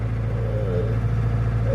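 A 2.0-litre Mercedes 200D W123 diesel car engine drones steadily from close range, with low rumbling harmonics and a faint rise in pitch as it pulls along in city traffic.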